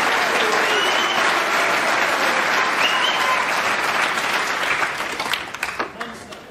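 Snooker crowd in a match between Ronnie O'Sullivan and John Higgins applauds a clearance with loud, dense, continuous clapping that begins to thin and scatter toward the end.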